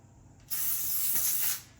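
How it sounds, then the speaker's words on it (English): Olive oil cooking spray hisses onto folded baked chicken and beef tacos in one close, steady burst lasting about a second before cutting off. "spray it lightly with some spray olive oil"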